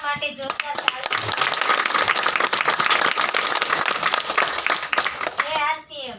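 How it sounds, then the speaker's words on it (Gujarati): Audience applause in a hall during a gathering: a dense, continuous wash of clapping for several seconds that fades out, with voices at the start and end. "માટે જોરદાર તાળી"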